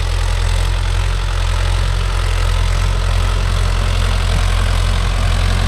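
A Mahindra Yuvo Tech Plus 585 4WD tractor engine idles steadily, a loud, low, continuous rumble with a slight knocking texture that stays constant throughout, with no talking.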